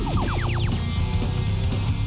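A rising electronic warning signal marks the end game of a 2018 Orange County Regional robotics qualification match: six quick upward-sweeping chirps in a row, loud over constant arena crowd noise.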